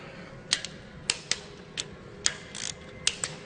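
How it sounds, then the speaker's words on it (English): A wrench clicks as it checks torque on the cylinder head bolts of a Caterpillar 3406 diesel engine: a sequence of sharp, close metallic ratchet clicks, some doubled, spaced irregularly over a quiet background. "I just ran through and checked to make sure they torqued"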